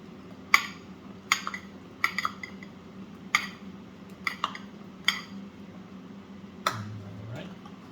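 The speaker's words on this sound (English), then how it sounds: "mix that in so that you coat your cubes" Cube-cut fries being stirred and tossed in a bowl to coat them, giving light repeated clinks and scrapes about once a second over a quiet background hum.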